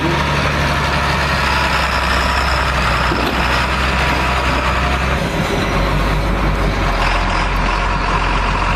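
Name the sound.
diesel engine running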